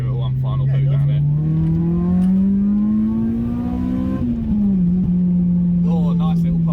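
A tuned Honda Civic EP3 Type R engine drones and climbs steadily in pitch as it accelerates hard, then eases off with a few sharp exhaust pops.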